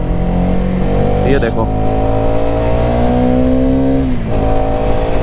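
A Hero Karizma XMR 210 motorcycle with a 210cc engine drones loudly and steadily under the rider's continuous talk, its engine pitch climbing as it pulls away.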